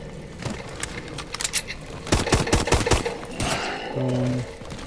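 Gunfire from Call of Duty Advanced Warfare in Exo Zombies mode: a tight cluster of loud shots in the middle, with scattered clicks and game sounds around it, ending in a short electronic tone.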